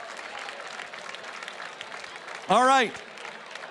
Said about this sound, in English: How about a big round of applause to everyone who raised their paddle?